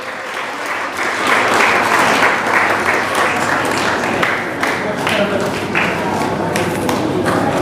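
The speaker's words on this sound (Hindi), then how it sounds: "तालियां कम हो गई बच्चे, तालियां जोर से" Schoolchildren clapping loudly at a school event, a dense, sustained burst of applause that stays strong throughout, with a voice briefly heard over it.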